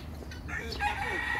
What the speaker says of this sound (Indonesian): So ni semua ni adalah kawasan ayam sangkar ni.